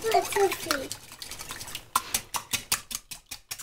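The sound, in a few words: whisking eggs in a bowl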